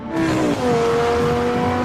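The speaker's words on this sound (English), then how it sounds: "powered by a 570 horsepower V10" Lamborghini Sesto Elemento's 570-horsepower V10, four-wheel drive, accelerating hard, a loud close engine note whose pitch climbs, dips briefly at a gear change, then climbs again, with no talking.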